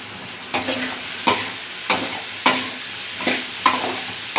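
Curry leaves and onions frying in oil for a spicy fish curry. Six evenly spaced scraping strokes of a spoon stir the pan over a soft, continuous sizzle.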